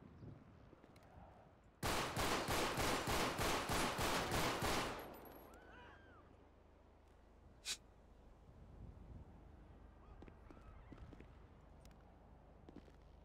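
Gunfire in the FiveM video game: a loud burst of about ten rapid, evenly spaced shots lasting roughly three seconds, followed by a single sharp shot and quieter ambient game noise afterward.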